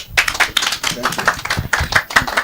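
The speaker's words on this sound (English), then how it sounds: "you can now clap for yourself for being here" Audience clapping at a thanksgiving event, a brief burst of scattered, uneven claps close by with some voices mixed in.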